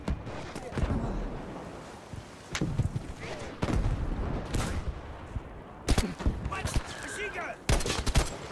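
Sniper rifle shots and surrounding gunfire in the World War II shooter game Battlefield V, sharp loud cracks in irregular bursts over battlefield rumble, with a player talking at times.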